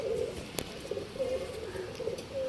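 Giribaj pigeons coo in a steady series of low, throaty murmurs, near and fairly loud, repeating in soft rolling phrases with a brief sharp click partway through.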